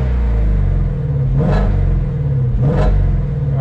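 A Shelby GT350 engine with its exhaust in quiet normal mode idles with a deep rumble, then revs twice in quick succession, each rev rising and falling back to idle, close and fairly loud.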